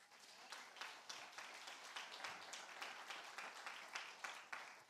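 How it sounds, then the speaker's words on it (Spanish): A Spanish-speaking church congregation claps for the Lord during a sermon, a fairly faint, steady patter of many hands with distinct individual claps standing out, continuing for several seconds. "Vamos a darle un aplauso al Señor."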